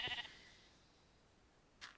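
A Minecraft sheep gives a short, thin bleat, followed by a second faint bleat a moment later, alone and fairly quiet.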